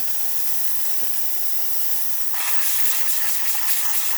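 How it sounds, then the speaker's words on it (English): Steam wand of a Saeco Exprelia Evo coffee machine, just repaired after a leak, sends out a loud, steady, close hiss that grows harsher and more sputtering partway through. "And now we're gonna test the steam."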